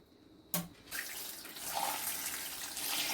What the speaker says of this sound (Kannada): ಸ್ವಲ್ಪ ತಣ್ಣೀರು ಹಾಕಿ ತೊಳೆದು ಎಕ್ವಗಾರ್ಡ್ ನೀರು ಹಾಕ್ತೀನಿ.